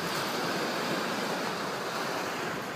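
Sea waves washing onto the shore at Clacton beach, a steady broad roar of surf with wind buffeting the microphone, continuous and fairly close with no talking.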